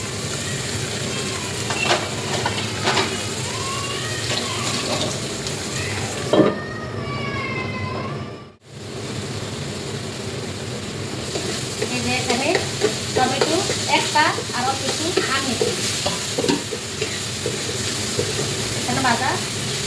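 Mash ingredients for a bharta are fried and stirred in a pan, with a steady sizzle and scraping strokes running throughout. Brief clattering breaks in midway, followed by a short pause before the stirring resumes.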